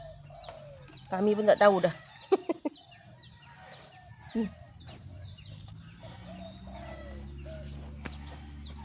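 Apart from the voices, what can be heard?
chickens clucking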